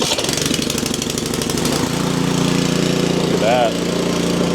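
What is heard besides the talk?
PowerSmart snow blower engine running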